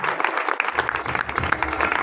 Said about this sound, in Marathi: जोरात टाळ्या वाजवतात